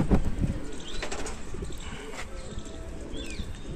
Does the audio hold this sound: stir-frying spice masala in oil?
no